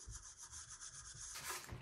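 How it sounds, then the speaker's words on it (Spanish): Wood sanded by hand with rhythmic back-and-forth strokes, quiet and close, growing slightly harsher near the end, with no voices. "Aquí está, hay que lijarlo."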